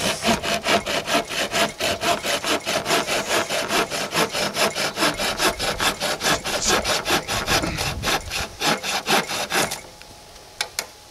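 A Kershaw Taskmaster folding saw cuts through a 1½-inch piece of dry poplar in quick, even, rasping strokes, loud and close, about two per second. The strokes stop near the end, leaving quiet.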